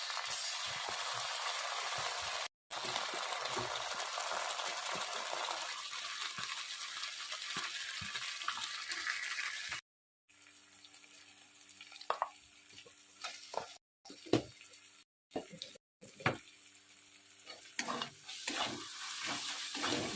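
Spice masala with Kashmiri chili powder and tomato paste sautéing in oil for a Bengali tel koi fish dish: dense loud frying hiss at first, then after a cut quieter sizzling with repeated clinks and scrapes of stirring.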